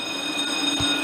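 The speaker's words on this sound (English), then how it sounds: "the next red line train to Braintree is now approaching" A Boston MBTA Red Line subway train bound for Braintree approaches the station, heard as a steady rumble with a high, sustained metallic whine and a brief low thump, loud and close in an underground platform setting.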